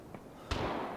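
A single sharp gunshot in the video game Vigor cracks out with a low boom and a short decaying tail. A faint click comes just before it.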